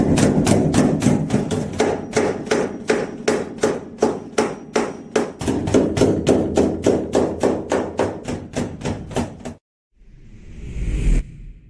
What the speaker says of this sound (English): Also need a little hammer.